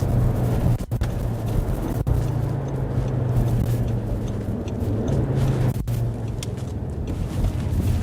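Audi RS3 pulling in and turning around, heard from inside the car as a steady, loud engine and road drone with a low hum and a few brief dips, with no talk over it.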